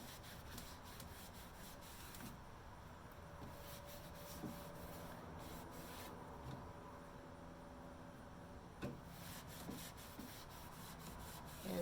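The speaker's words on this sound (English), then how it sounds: "But you want to start with your clear wax on there." Clear furniture wax being rubbed by hand onto painted wood furniture, a steady close scuffing and rubbing that runs continuously with a few brief louder strokes, no voices.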